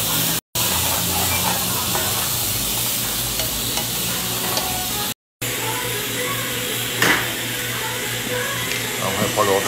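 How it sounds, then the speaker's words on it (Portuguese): Shrimp seasoned with herbs, pepper, saffron and paprika sizzle and hiss in a pan, a loud continuous close fry with scraping stirs and two brief cut-outs, and no voices. "Vamos refogar o camarão aqui"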